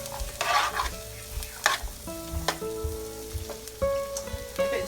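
Vegetables sizzle in butter in a single pot for pasta primavera, with close, repeated stirring scrapes over a steady frying hiss.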